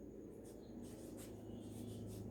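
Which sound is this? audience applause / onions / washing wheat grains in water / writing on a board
writing on a board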